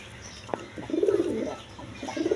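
Pigeons cooing at a pigeon market, a few soft throaty coos rising and falling close by, with a brief click and faint background bustle.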